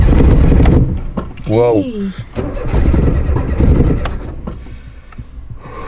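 Car engine starting on a cold morning, the starter cranks briefly before the engine catches and revs, close and loud, while people talk and exclaim around it.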